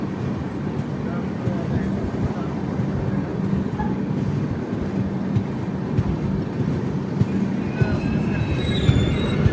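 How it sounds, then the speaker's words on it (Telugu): A train rumbles steadily along the railway with continuous wheel and track noise, rising slightly toward the end as another train passes on the adjacent line, with faint squeals above the low roar. "ఆ బండి అలా వస్తుంది, మన బండి ఇలా కదిలింది."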